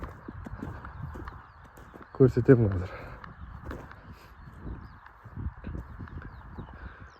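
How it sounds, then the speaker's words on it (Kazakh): Horses walking near a rural homestead, hooves clip-clopping in a short, close cluster of steps beneath ongoing conversation and steady background hum. "Қазір үй жақта жылқылар жүрген."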